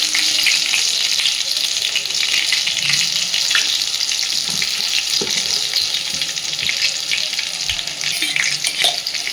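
Whole cumin seeds and crushed whole garam masala frying in hot oil, heard as a loud, steady sizzle with occasional stirring scrapes throughout, with no voices.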